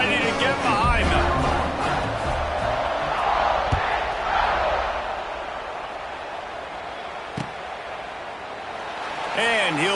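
A stadium crowd roars in the Madden football video game, a broad, sustained cheer that swells and fades, with voices audible over it.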